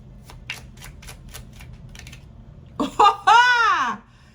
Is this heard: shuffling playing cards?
yes